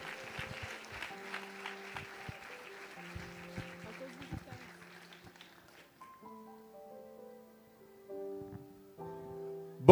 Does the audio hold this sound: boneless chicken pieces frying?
no